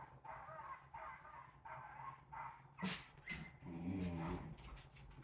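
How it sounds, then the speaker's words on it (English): Several dogs bark in a series of sharp, separate yaps, fairly distant at first, then a louder burst and some whimpering yips. "I don't know if you hear those dogs."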